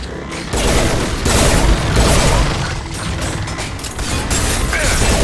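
Heavy gunfire crackles in a Mass Effect 2 Legendary Edition battle, with loud dense bursts, booms and mechanical clanks at close range, and no talk.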